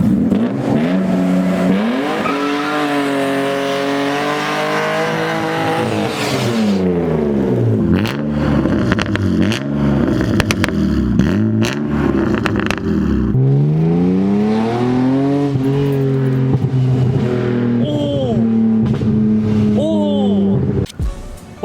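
A BMW E36 328i convertible's engine revs repeatedly, rising and falling in sharp sweeps, with crackling pops and bangs between revs, loud and close throughout.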